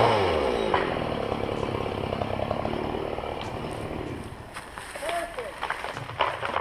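A crew saws trees with a chainsaw outdoors, its rough engine drone loud and continuous throughout, fading slightly near the end, with wind noise and voices mixed in.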